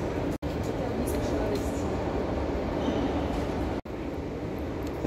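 A Kazan metro train carrying advertising sits at a station, giving a steady loud rumble of rail noise throughout, broken by two brief cuts in the sound.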